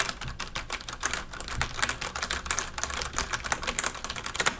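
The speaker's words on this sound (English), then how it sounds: "so you can kind of hear what it kind of sounds like when you are using the keyboard" Rapid typing on an ASUS Strix Tactic Pro mechanical keyboard with Cherry MX Brown switches, with quick, irregular clicky keystrokes at close range and no voices.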